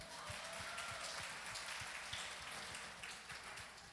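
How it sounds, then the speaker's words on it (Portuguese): A church congregation claps together in a steady, even wash of applause that sounds faint and distant, with soft low thumps running through it for about four seconds. "Vamos dar uma salva de palmas, gente?"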